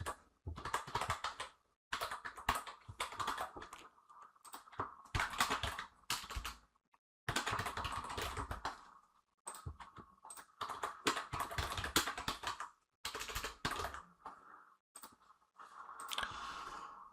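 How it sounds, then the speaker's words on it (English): Fingers type a test credit card number on a computer keyboard, giving fast bursts of close, crisp key clicks separated by brief pauses, with no one talking. "Let's check out with a test credit card number."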